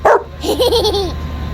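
A dog lining up with people gives a sharp bark, then a run of high, wavering whines and yips, close by and loud.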